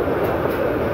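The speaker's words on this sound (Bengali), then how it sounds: "পুরো ট্রেনটিকে দেখা যাচ্ছে বাঁকের মধ্যে। আর গতি বাড়াচ্ছে ধীরে ধীরে" A local train running between Bhairab and Akhaura rolls through a curve while slowly picking up speed, a steady close rumble with a faint high whine above it and no speech.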